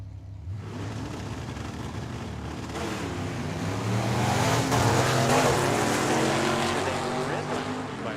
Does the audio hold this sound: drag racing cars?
yes